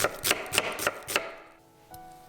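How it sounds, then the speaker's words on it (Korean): A knife slicing a quarter onion into thin strips on a board, four quick, evenly spaced close chops, then quiet. "양파 4분의 1개는 채를 썰어 주시고요"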